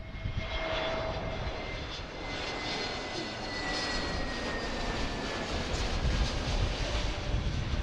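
An airliner arriving at Philadelphia airport rumbles past with steady jet engine roar and a faint high whine, holding moderately loud throughout with a slight dip near two seconds and a late swell.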